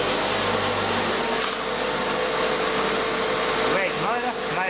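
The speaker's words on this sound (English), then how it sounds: "Red motor, made in Brazil." A red electric motor made in Brazil, model LTE35, weighing 165 kilos and drawing about 30 amps, runs with a steady, loud hum and whir, and a voice speaks over it partway through.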